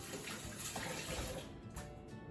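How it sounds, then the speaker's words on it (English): Tap water runs steadily and close by as hands are rinsed under it, a continuous rushing splash that stays fairly even, with a slight shift in tone toward the end. "Wash my hands off a little bit real quick."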